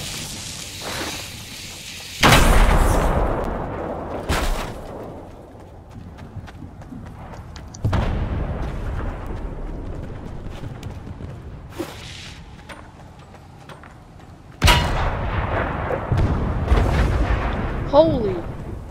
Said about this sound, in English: The explosion, jeez.